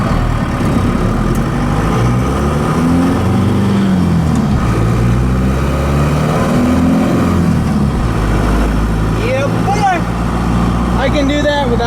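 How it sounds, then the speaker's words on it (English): A Ford F150 fitted with a 4BT Cummins engine revs and pulls through its gears, loud and close, with rising and falling pitch sweeps and a moaning whine from fuel hoses being sucked shut; a voice talks over it. "the V8 is sucking the fuel hoses shut. You probably hear that moaning noise."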